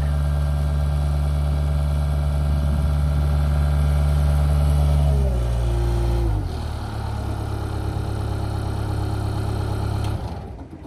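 Case 1838 Uni-Loader skid steer, 49 horsepower, idling steadily up close at an outdoor auction, a loud continuous diesel drone that shifts pitch slightly partway through before settling again.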